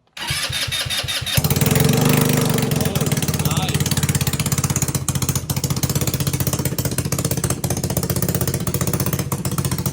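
A GY6 scooter engine fitted to a go kart, cranked with a few rapid starter pulses before catching and settling into a loud, close, buzzing idle that runs steadily to the end.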